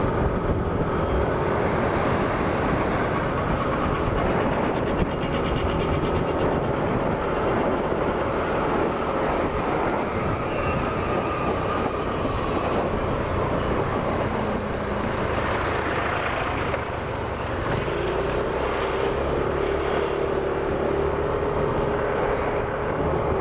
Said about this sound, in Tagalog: dito may train